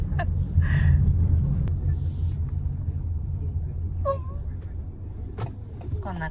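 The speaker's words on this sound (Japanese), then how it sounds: "こんな感じで運転しております。" Car driving on the road, with a low steady engine and road rumble under the cabin sounds, a few clicks and shuffles, and people chatting inside throughout.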